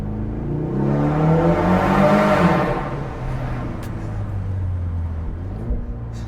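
A 2025 Ford Mustang EcoBoost accelerating at partial throttle, heard as a rising engine drone that builds, then falls back to a steady cruising hum under road noise.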